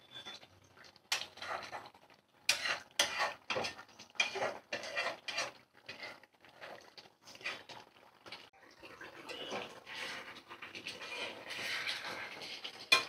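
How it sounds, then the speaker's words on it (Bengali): A spoon stirs chicken curry in a metal pot, scraping and clinking in irregular bursts, close and fairly loud, then shifting into a softer continuous sizzling and rubbing texture. "একটু নাড়াচাড়া করে নেব"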